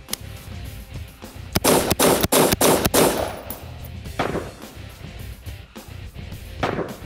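A Stag Arms Model 3T rifle fires about six sharp, loud shots in quick succession outdoors, followed by a couple of fainter, spaced shots or clanks as echoes fade.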